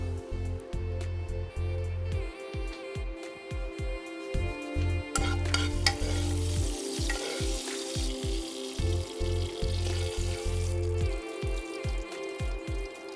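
Oil crackles and sizzles steadily as spices and red chili temper in a pan for tadka yogurt, with a brighter burst of spattering midway and low music running underneath.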